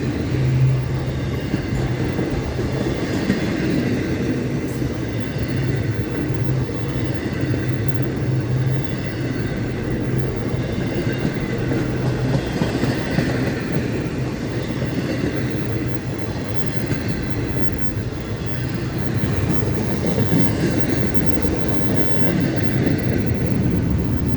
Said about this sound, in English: Humongous, enormous, super massive Friday night train here.